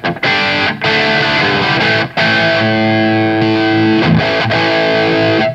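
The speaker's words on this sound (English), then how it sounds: "So this is the katana crunch again with a bit of reverb." A crunchy overdriven electric guitar through a Katana amp's crunch setting plays sustained chords and notes with a reverb tail, loud and up close, with brief gaps between phrases.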